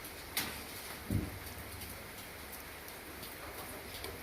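Rain falls in a steady, even hiss, broken by a couple of brief, soft knocks nearby.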